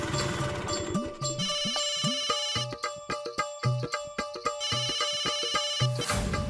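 A mobile phone rings with an incoming call, a bright electronic ringtone of repeated melodic beeps and rhythmic tones, fairly clear, lasting over six seconds with no speech over it.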